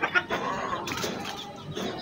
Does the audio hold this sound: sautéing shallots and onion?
no